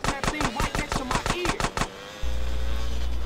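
Rapid bursts of gunfire in GTA San Andreas Definitive Edition, about ten sharp shots in quick rhythm, then a steady low rumble takes over.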